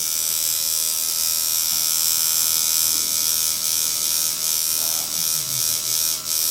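Steady electric buzz of a tattoo machine shading skin, run with a loosened setting so the ink does not go in solid; the motor drones continuously and close up, with slight wavering in pitch and strength.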